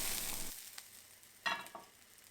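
Steaks frying in a pan at about 45 seconds per side: a faint sizzle that fades, then a couple of brief louder spits and crackles near the end.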